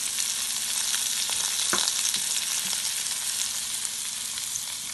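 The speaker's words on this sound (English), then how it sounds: "You can still hear that beautiful sizzle." Beef and its juices sizzle in a frying pan with a steady, crackling hiss and a few small pops, heard up close with no talking.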